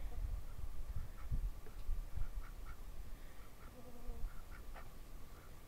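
A pet duck quacks repeatedly in a cold backyard chicken coop, the calls moderately near and spaced out over steady background noise with faint low rumbling.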